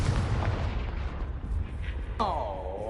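A Confringo fire spell bursts in Hogwarts Legacy with a rumbling, blast-like roar that rolls on for a few seconds, and a brief tonal shimmer rises near the end under some game sounds.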